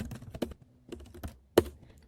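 Computer keyboard keys are struck in a few quick bursts up close, a handful of crisp clacks separated by short pauses, ending with one louder tap, as a command is typed into a terminal.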